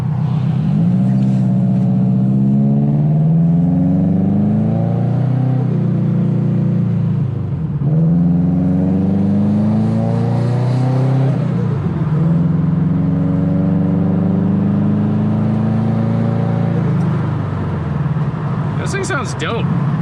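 A Subaru Legacy GT engine revs repeatedly, loud and close, rising and falling in several long sweeps with a low rumble throughout, while people talk over it.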